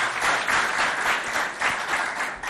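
An audience applauds two players at a school competition event, with dense, steady clapping from a sizeable crowd that swells and holds throughout.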